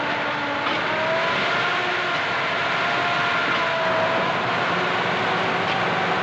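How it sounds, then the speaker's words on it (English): A 1941-era old car stuck in mud keeps its engine revving hard and continuously in a steady, loud drone with no let-up, while the wheels fail to pull free. "Rev her up, William, rev her up."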